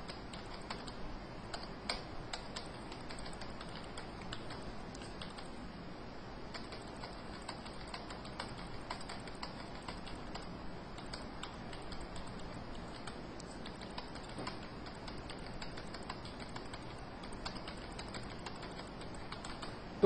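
Steady, continuous typing on a computer keyboard while entering numbers for English, maths and science marks into a spreadsheet, with dense rapid key clicks throughout and no talking.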